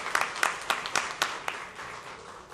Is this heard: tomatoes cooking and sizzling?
no